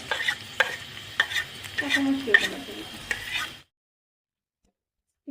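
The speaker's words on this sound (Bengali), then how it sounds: "পেঁয়াজটি ভাজা লইলাম" Onions and green chillies fry with a soft sizzle while a utensil stirs and taps the pan repeatedly, then everything stops abruptly into silence.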